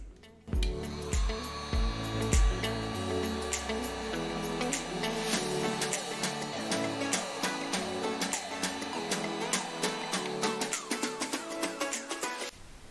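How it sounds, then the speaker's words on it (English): A heat gun warms a carbon fiber spoiler on a BMW M235i to soften the adhesive, giving a steady close blowing whir that runs throughout, with scattered light ticks and clicks. "First, we have to warm the spoiler with a heat gun, so we can soften the glue in the inside."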